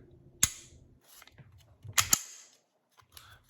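A dry-fire trigger break on a pistol with an adjustable trigger shoe set to about 2 pounds 6 ounces gives sharp mechanical clicks, one near the start and a quick pair later, close and crisp in a quiet room.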